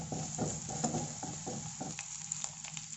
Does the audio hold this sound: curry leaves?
yes